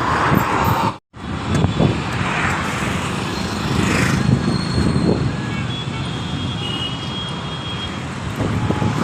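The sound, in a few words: metro train arriving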